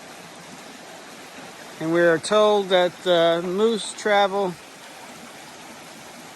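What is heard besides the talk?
stream flowing next to the campsite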